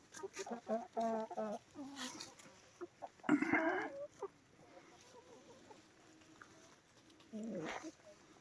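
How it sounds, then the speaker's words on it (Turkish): Young roosters and hens cluck and crow nearby on a farm after rain, with a few loud bursts of calls separated by quieter gaps and a person talking in between. "Bunlar genç horozlarımız."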